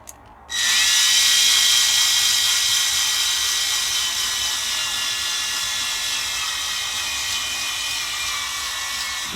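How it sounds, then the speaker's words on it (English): A torque drill starts up and runs continuously with a high, steady whine, slowly easing in pitch and loudness over several seconds. "If you've got a torque drill like this"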